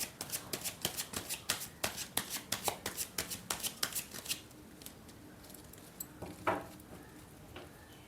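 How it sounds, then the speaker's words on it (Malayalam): Tarot cards shuffled by hand in quick riffling bursts, about a dozen sharp rapid flicks in the first half, then a few scattered softer card sounds and a brief rustle, close and alone. "ഒന്നുകൂടെ ഷഫിൾ ചെയ്യട്ടെ പ്ലീസ്."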